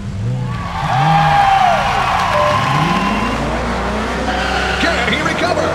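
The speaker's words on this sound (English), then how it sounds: "Racers, start your engines!" Hot Wheels race cars at Thunder Speedway roar loudly with revving engines and squealing tires, sweeping pitch changes as they pass, all under excited commentary.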